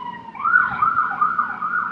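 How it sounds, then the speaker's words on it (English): Emergency vehicle siren wailing outside, a steady rising and falling tone that holds at moderate loudness for the full two seconds with no voices over it. "and there are some sirens"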